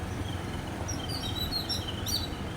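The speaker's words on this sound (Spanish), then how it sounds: "¡Qué lindos pájaros!" Several small birds chirp and tweet in short, high bursts over a steady wash of outdoor noise, fairly faint and at some distance, beside a river in Sri Lanka.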